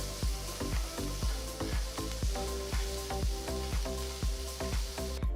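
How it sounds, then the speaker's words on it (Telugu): Chopped ginger, green chillies and onion fry in a pan with a steady close sizzle. Regular rhythmic scraping strokes of stirring repeat about every half second throughout. "1 నిమిషం పాటు వేయించాలి."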